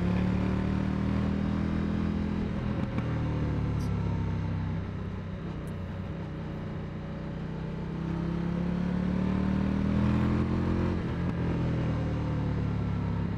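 A motorcycle with a 19-inch front wheel cruising steadily in third gear, its engine a continuous low drone that dips slightly mid-ride and swells again, close and alone with no talk.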